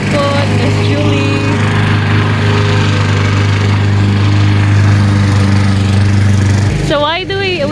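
A lawn mower drones loudly and steadily nearby as a neighbor cuts the grass, its engine hum constant before cutting out abruptly near the end.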